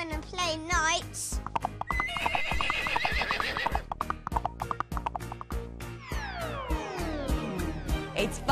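Whinnying horse and steady clip-clopping hooves, with a neigh at the start and a rapid run of hoof beats through most of the stretch, against a busy musical backing in a children's play scene about riding like a knight.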